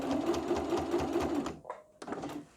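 Sewing machine stitching a straight seam, a steady close, fast mechanical chatter that stops briefly, then restarts for a short final run.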